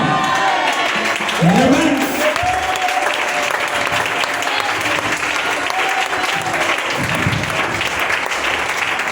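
A church congregation claps and acclaims, with dense continuous applause and raised voices and cheers blending together throughout, loud and sustained without a break.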